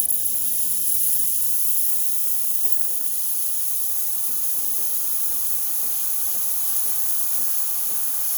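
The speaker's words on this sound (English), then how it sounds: "Nice strong steam." Steady, loud hiss of a Breville XL espresso machine's steam wand after a full service tune-up, running continuously and close by with no talking.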